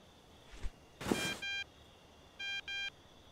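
A phone in the Thief Simulator video game gives a short thump, then a burst of noise and three clipped electronic beep tones in two groups, sounding alone and fairly close.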